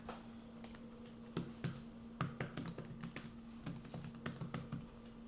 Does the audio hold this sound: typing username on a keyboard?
yes